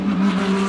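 A race car in a SAGTRA race holds a loud, sustained engine note heading into turn 1. The single steady roar is clear and near throughout the brief moment.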